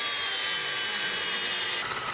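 A power drill runs steadily while a hammer test rig is built, giving a continuous close whirring grind with no pauses or voices.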